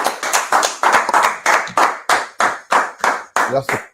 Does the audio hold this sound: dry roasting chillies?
no